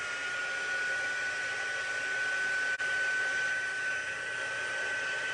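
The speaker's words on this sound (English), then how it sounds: "then we have our heat embossing tool right here" A heat embossing tool blows hot air for card stamping, a loud, steady, unbroken whoosh with a faint whine running through it and one tiny dropout midway.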